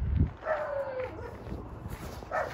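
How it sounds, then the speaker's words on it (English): Dogs bark and yip in short bursts, a couple of sharp calls near the start and end, with a faint whine in between, heard fairly close outdoors. "Dogs are annoying every time they bark."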